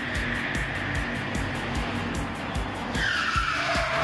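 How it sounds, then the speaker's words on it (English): Two cars, a cop car and a gangster car, skid with repeated squealing tire bursts and engine roar during a car chase stunt rehearsal in a warehouse, loud and close, with a sharper screech near the end. "we're going to film a car chase With 2 cars, cop car, bad guy, gangster car"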